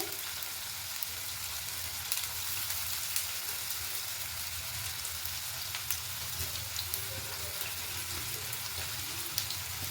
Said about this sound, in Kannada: ನೋಡಿ ಈರುಳ್ಳಿ ಹಾಕೊತಾ ಇದ್ದೀನಿ ಈರುಳ್ಳಿ ಹಸಿಮೆಣಸಿನ್ಕಾಯಿ ಎರಡು ಹಾಕೋಣ ಚೆನ್ನಾಗಿ ಫ್ರೈ ಆಗಬೇಕು